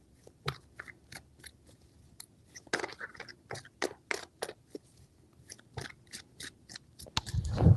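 Tarot cards are shuffled by hand in a series of quick, crisp riffling snaps and slaps, close up, in several bursts separated by short pauses.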